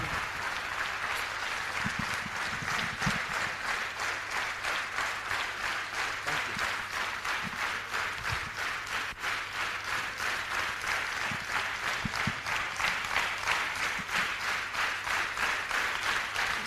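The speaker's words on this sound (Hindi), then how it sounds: "मैं चाहूंगा एक जोरदार ताली बजा दो" A crowd at a business training session gives sustained, vigorous applause, a dense and even wash of clapping that holds steady for over fifteen seconds with no talk over it.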